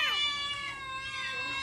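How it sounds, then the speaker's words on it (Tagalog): Cats meow in a drawn-out, wavering call through most of the moment, moderately loud and close, with a sharp louder burst at the very end. "Agmimiyaw dagiti pusa, Isko."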